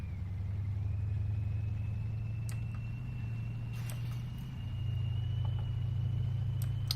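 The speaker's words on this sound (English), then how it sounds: "Love the engine sound on this tank." A T-14 Armata tank engine in the game Armored Warfare drones at a steady low rumble with a faint high whine above it, holding constant with a slight dip midway.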